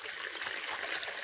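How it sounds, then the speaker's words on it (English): Water poured into a bowl for dough, a brief, bright splashing trickle with no voices over it. "So I'll go ahead, add some water here."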